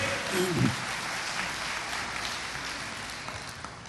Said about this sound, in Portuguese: Quem concorda, aplauda Jesus comigo nesta manhã.